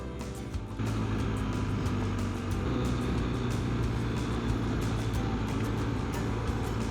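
A motorcycle is ridden on the Washington Backcountry Discovery Route through valley sagebrush and timber, its engine a loud, steady drone mixed with rushing wind that holds nearly constant after a slight rise in the first second.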